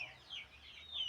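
Domestic turkeys kept at home give a brief burst of faint, high clucking calls, soft and close with no speech.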